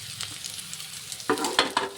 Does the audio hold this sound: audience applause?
no